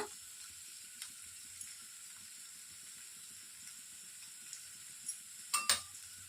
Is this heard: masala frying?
yes